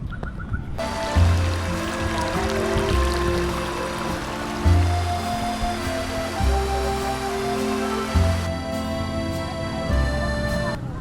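A hillside stream runs steadily downhill toward a waterfall, its continuous rushing and trickling water close and fairly loud from start to end, with some faint background sounds mixed in.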